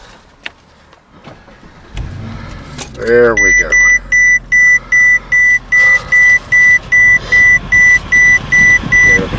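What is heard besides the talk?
2008 Mercedes-Benz CL63 AMG engine starting and idling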